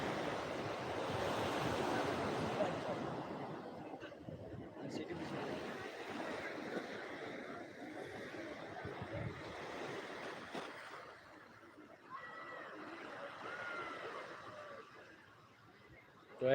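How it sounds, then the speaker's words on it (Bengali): Rough surf pounds Digha beach at a full-moon spring tide, a continuous loud roar of breaking waves and wind with a few swells rising and falling, while a voice talks faintly over it. "পূর্ণিমার ভরা কোটালে একেবারে উত্তাল দীঘার সমুদ্র সৈকত"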